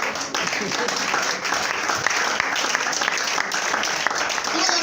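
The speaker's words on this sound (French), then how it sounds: "Acclamons le Seigneur" A church congregation applauds together in a dense, sustained wash of clapping that stays loud and even throughout.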